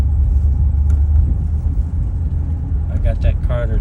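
A 1977 Chrysler New Yorker with a Carter carburetor runs after a cold start, its engine a deep, steady low rumble heard close from inside the car, with a person talking over it near the end.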